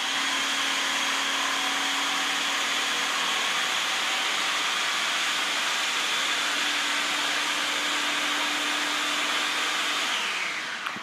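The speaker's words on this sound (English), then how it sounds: "Sorry, that was a blender" A blender runs steadily and loudly for about ten seconds, giving an even whirring roar with a constant motor hum that winds down at the very end.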